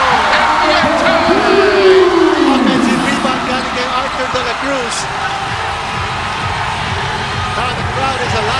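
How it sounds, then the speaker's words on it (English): A packed basketball arena crowd at a PBA Governors' Cup game between Ginebra and Rain or Shine roars loudly and continuously, with shouts and whoops rising over the din and an excited commentator talking throughout. "The crowd is alive."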